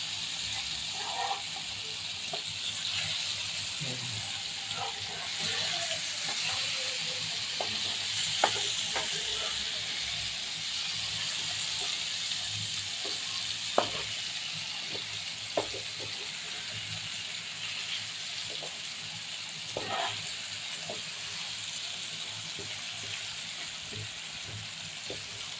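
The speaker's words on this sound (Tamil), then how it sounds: "இந்த மீன் இப்படியே வேகட்டும்." Fish sizzles steadily in a pan while cooking for a Tamil fish curry, a continuous hiss of frying oil with occasional faint pops and clinks.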